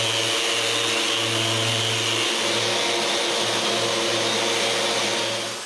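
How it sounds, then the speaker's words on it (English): Glued cedar patio table pieces are sanded with a power sander. The sander gives a continuous, close, even roar and a low motor hum for several seconds, with no voices. "The next morning, we can sand what we've glued yesterday"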